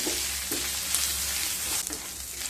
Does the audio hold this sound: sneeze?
no